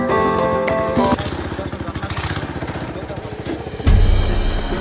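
A boat engine chugs with a rapid pulsing beat as the boat pushes upriver between huge rocks near Nafakhum in Bandarban. The engine is loud and near, its tone shifting partway through, and a voice talks over it.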